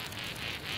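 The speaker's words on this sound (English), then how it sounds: "Bees can be a bit of a pain." Bees swarm in a survival video game, giving a steady, close, droning insect buzz that holds without a break.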